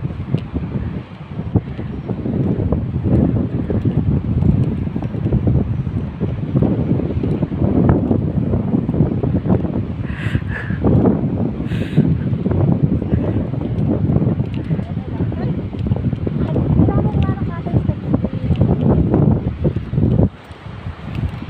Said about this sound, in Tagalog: Super yung hangin.